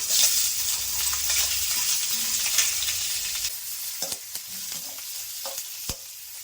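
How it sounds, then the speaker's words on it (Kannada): Onions sizzle in hot oil in a pan for a chicken keema dish, a steady close frying hiss with occasional sharp clicks and scrapes of stirring toward the end. "ಸ್ವಲ್ಪ ಎಣ್ಣೆ ಹಾಕೊಂಡೆ, ಮತ್ತೆ ಇಲ್ಲಿ ಸ್ವಲ್ಪ ಈರುಳ್ಳಿ, ಎಲ್ಲಾನು ಒಟ್ಟಿಗೆ ಹಾಕೋತಾ ಇದ್ದೀನಿ"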